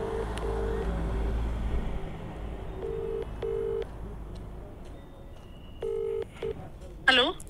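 A phone call being placed from a roadside location in Ladakh, with a series of steady tones like a ringback or dialing signal repeating in short bursts over a constant background hum, ending in a brief noisy burst.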